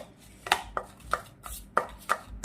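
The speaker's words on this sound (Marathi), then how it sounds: "आता याला पण असं फेटून घ्यायचं आहे" Paneer tikka marinade is beaten in a bowl, giving quiet, uneven clinks and taps about every third of a second, each sharp and brief against a soft background with no talking.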